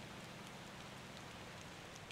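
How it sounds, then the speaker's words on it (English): Rain effects in the Motortown driving game make a quiet, unbroken wash of patter and hiss, steady and fairly faint throughout. "I do like the rain effects in this game."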